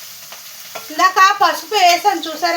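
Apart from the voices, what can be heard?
spices sizzling while tempering in hot oil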